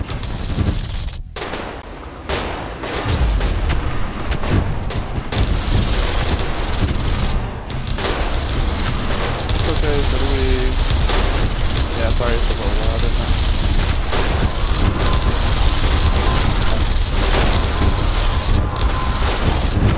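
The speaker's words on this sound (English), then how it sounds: "Oh, they have missiles." Missiles and weapons fire in the space strategy game StarDrive, a loud, rapid barrage of sharp bursts and booms close up, layered over a constant rumbling battle din that runs unbroken throughout.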